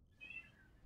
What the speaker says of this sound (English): Sorry about my cat, by the way.